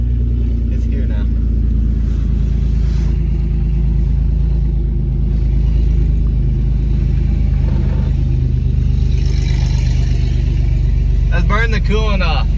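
A 1996 Toyota Tacoma, just back together after an engine swap, idles with a loud, steady low rumble close by while people talk over it.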